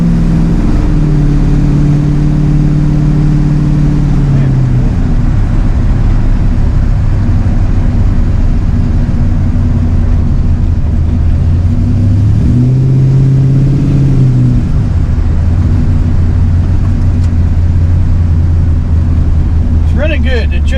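An LS-swapped Dodge Dakota with a new intake and 92 mm throttle body accelerating on the road. Loud, close engine drone rises in pitch through two distinct pulls, easing between them.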